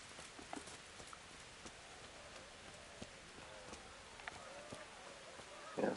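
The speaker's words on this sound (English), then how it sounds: "this rain is actually more annoying than I was hoping for" Rain patters in the medieval video game Kingdom Come: Deliverance, a soft, steady hiss with scattered louder drips and taps, fairly quiet and uninterrupted.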